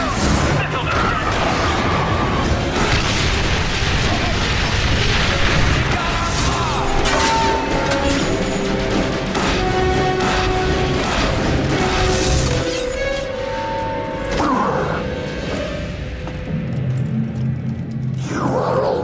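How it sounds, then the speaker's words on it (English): Explosions and heavy rumbling booms from an artillery bombardment in the video game The Bureau: XCOM Declassified, continuous and dense across the clip, blended with battle noise, music and voices. "Bombardment now!"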